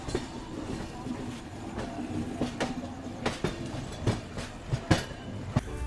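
The Hapa SVD passenger express runs along the rails in a steady close rumble, broken by a rhythmic clickety-clack of wheels over rail joints that grows sharper and more frequent.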